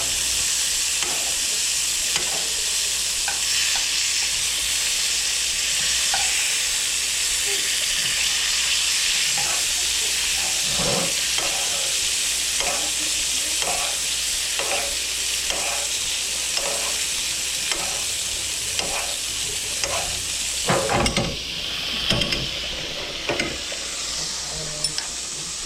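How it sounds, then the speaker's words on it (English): Butter sizzles loudly and steadily as it is spooned over a filet mignon in a pan, with a rhythmic series of soft spoon taps and scrapes cutting through the hiss and a brief louder clatter near the end. "you take spoonfuls and laying it on a side and you start dumping the butter over the steak"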